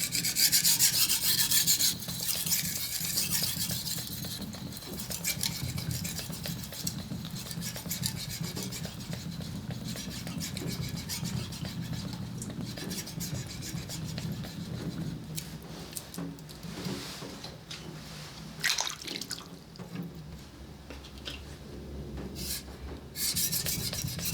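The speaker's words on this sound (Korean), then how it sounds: "각도기는 15도로 이렇게 놓고 각도를 맞춰준 다음 연마를 해줍니다" A knife blade is sharpened at a 15-degree angle set by an angle guide, with steady close rasping strokes on the stone that continue rhythmically for over twenty seconds, no talking.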